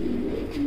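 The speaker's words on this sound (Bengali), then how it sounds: "লাল মুখী কবুতর আমরা দেখতে পাচ্ছি" Red-faced fancy pigeons coo at a pigeon farm in Natore, a short, low, steady coo heard up close without talk.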